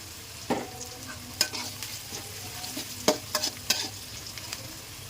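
Drumsticks, mango and potato frying in a pan give a soft background sizzle, broken by sharp scraping clicks of a spatula stirring at irregular intervals, fairly quiet and close.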